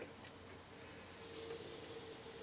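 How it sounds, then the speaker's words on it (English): Water is squeezed out of a Berkey water filter with a rubber pump bulb, giving a faint, steady trickle and hiss of liquid with a couple of brief squelches. "as I squeeze it, see the water coming out of there?"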